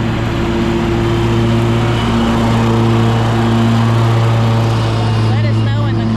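A lawn mower runs steadily while mowing up fallen leaves in late autumn, its engine holding a loud, constant drone with a strong low hum throughout, close by and with no talk.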